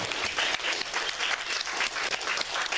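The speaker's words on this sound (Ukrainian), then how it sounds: "Будь ласка, на сцену ваші оплески, е, підтримка." An audience applauds steadily as an award-winning author is welcomed onto the stage at a Ukrainian book presentation, dense continuous clapping filling the room without a break.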